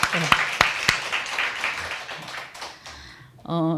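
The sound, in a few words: congregation applause to glorify God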